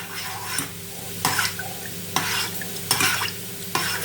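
A spoon stirs a sauce of water, tomato paste and sour cream in a pan. About five distinct scraping strokes come at an uneven rhythm, close up, over a faint sizzle.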